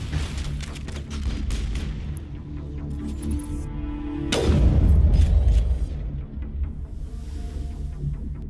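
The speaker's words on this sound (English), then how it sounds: "Sniper rifle." A sniper rifle in Mass Effect fires a single loud, sharp crack with a deep booming tail midway through, set against a busy backdrop of smaller pops and game effects, with no talking.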